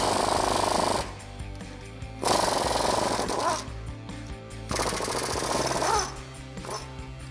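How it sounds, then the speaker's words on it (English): An impact or air tool rattling off sway bar bolts with a 10mm socket on a Silverado 1500 front suspension, in several loud bursts separated by short pauses. "So now grab yourself a 10mm socket and remove these 2 bolts holding the sway bar."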